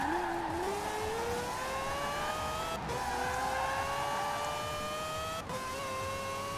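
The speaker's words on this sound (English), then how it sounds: "It generally just sounds like the race car" Mazda quad-rotor all-wheel-drive drift car on drag tires in Forza Horizon 4, its engine holding a steady high-pitched rotary whine that climbs through gears, with two brief shift cuts, loud and close throughout.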